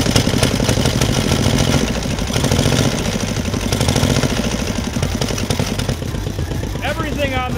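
An antique single-cylinder belt-drive motorcycle with a magneto idles loud and close, a steady thumping rumble throughout, with a voice speaking over it toward the end.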